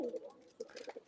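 Domestic pigeons of an old Khulna bloodline, pure white wild-type and rare chot breeds, coo softly in short low murmurs amid faint background voices, quiet and close.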